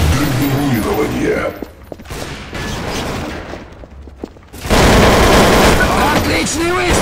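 Gunfire and weapon mechanisms in the Counter-Strike: Source video game, loud sharp bursts and metallic clanks with a quieter gap midway before a dense, loud stretch of shooting, with game announcer voices over the action.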